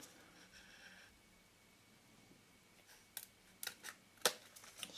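Scissors cutting a small piece of plastic, a few sharp crisp snips near the end after a quiet stretch, faint and close.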